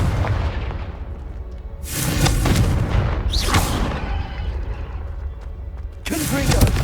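Several loud blasting bursts from the Confringo fire spell in Hogwarts Legacy, booming explosions arriving in separate bangs around a spoken incantation.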